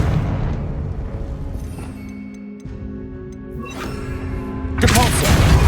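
A Confringo blasting spell bursts in Hogwarts Legacy, a deep booming explosion that rumbles through the opening, settles into a lingering hum, then erupts again in a loud, bright blast near the end.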